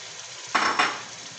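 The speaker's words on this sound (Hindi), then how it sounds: "अब इसमें हम ऐड करेंगे टमाटर। 4 बड़े साइज़ के टमाटर मैंने लिए हैं और उनका पेस्ट बना लिया है" Tomato paste tipped into a hot pan of frying masala for aloo matar curry over medium-high heat, giving two close bursts of sizzling and stirring that quickly fade back to a low background hiss.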